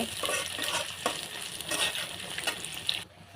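Fish frying in hot oil as a utensil stirs it around the pan, a close, continuous sizzle with scraping strokes that stops abruptly near the end.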